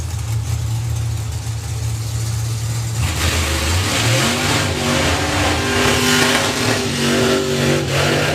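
A late model Camaro drag car revs during a burnout at a drag racing event, the engine low and deep-throated at first, then climbing into loud, sustained high revs with a rising tonal whine, close by.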